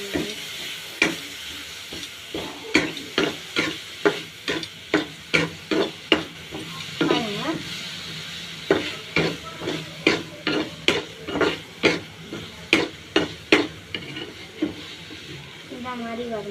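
Two handfuls of tomatoes frying in a pan, stirred with a steady run of sharp spatula scrapes and clicks against the metal over a soft sizzle, with a short pause midway before the stirring resumes.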